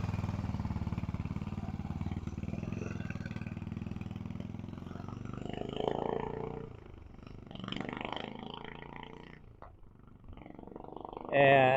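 A vintage British motorcycle engine runs steadily during a restoration test ride, a low, throbbing drone that swells and fades as the bike moves away and returns, with a voice talking over it.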